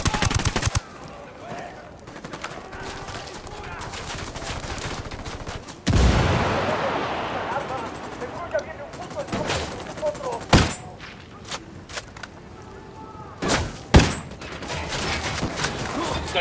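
Gunfire in Ghost Recon Wildlands, with loud bursts of automatic rifle fire and sharp single shots spread through the clip, including a big blast partway in and repeated volleys, over a bed of game ambience and voices.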